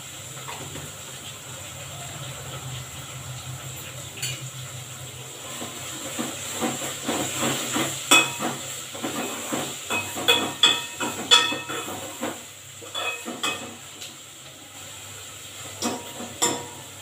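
Half a spoon of asafoetida drops into hot oil for a vegetable sambar tempering, raising a continuous hiss with irregular crackling spatters that grow busier midway, then thin out toward the end.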